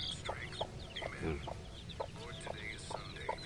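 A mother hen clucks steadily among her ten young chicks, whose thin high peeps run continuously alongside her soft, evenly spaced clucks, close by on a backyard farm.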